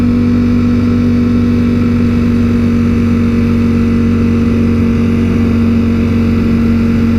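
A Ducati motorcycle engine drones steadily and loudly close by while riding, a constant mid-pitched hum with no break or talk.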